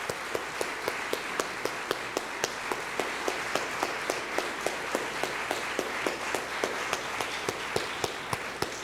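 Audience applause for award recipients at a 1997 community volunteer awards ceremony, a steady patter of many hands clapping throughout at moderate volume, with no talking.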